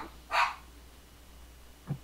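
Dogs barking, one sharp bark near the start followed by a softer, lower bark about a second and a half later, both fairly near against a quiet background.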